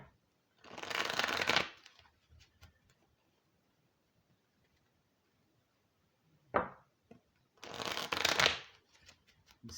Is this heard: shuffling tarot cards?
yes